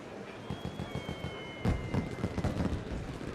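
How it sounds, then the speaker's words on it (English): Fireworks go off in quick succession, a string of crackling pops and bangs with a thin whistling tone gliding over them before a louder burst. "We even got a firework right there."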